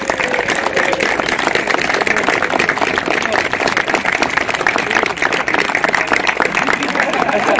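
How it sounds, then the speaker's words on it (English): A crowd applauds event helpers at a British Army uniform event, steady dense clapping continuing loudly throughout, with some crowd noise mixed in. "So give them a massive round of applause."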